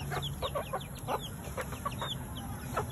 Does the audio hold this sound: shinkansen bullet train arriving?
no